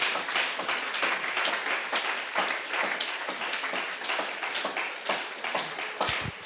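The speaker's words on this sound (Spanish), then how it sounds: "Dale un fuerte aplauso al Señor Jesús" Congregation clapping loudly during a church service in response to a call to applaud Jesus, a dense, continuous burst of many hands that fills the whole stretch with only slight swells.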